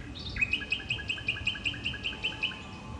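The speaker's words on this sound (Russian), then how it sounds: "Птички действительно красиво поют." Recorded birdsong played from a loudspeaker on a seaside embankment in Alushta: a steady run of bright, repeated chirps and tweets about every quarter second over low outdoor rumble, with no talk.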